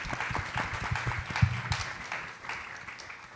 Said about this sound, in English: How about a round of applause for our school nurses?